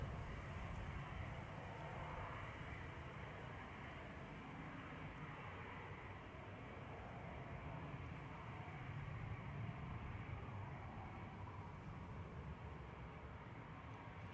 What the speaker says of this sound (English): Just about to arrive is Aer Lingus from Belfast.